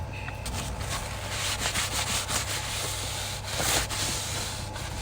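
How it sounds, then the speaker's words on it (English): Paint being rubbed off an abstract painting: a loud, continuous close-up scrubbing and rubbing sound with rhythmic strokes, steady throughout, no speech. "I'm going to rub that off."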